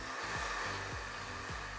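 Handheld hair dryer blowing steadily through a blowout on fine hair, a continuous close whoosh with its pitch dipping briefly three times as the airflow shifts.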